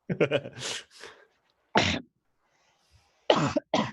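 A man clears his throat with a few harsh, gravelly bursts close to the mic, separated by short silences.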